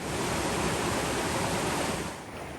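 Steady broadband rush of flowing river water during a hiker's river crossing on the Pacific Crest Trail, loud and close, easing slightly toward the end.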